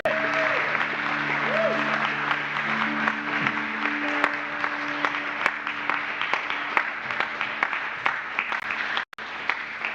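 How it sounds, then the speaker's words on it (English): A church congregation applauds as Isaiah walks to the pulpit, steady clapping that carries on throughout, with sustained organ or keyboard tones sounding underneath early on before the applause cuts off abruptly near the end. "Applause for Isaiah as he goes to the pulpit."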